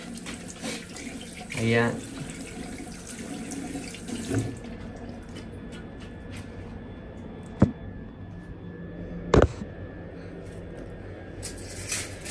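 Running tap water splashes steadily as soap is rinsed off a face at a sink, with a few sharp knocks and splashes and a brief voice in between.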